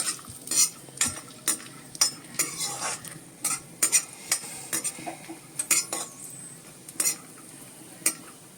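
Cashews and raisins frying in hot ghee for a grandmother's pumpkin kheer, with repeated metal spoon stirring and scraping against the pan over a faint sizzle, close and steady with no talking.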